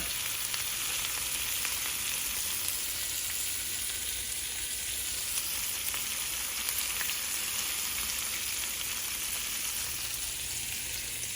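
Spaghetti meatballs brown in a hot pan over raised heat, a continuous bright sizzle holding steady and fairly close with only small crackles and no voices.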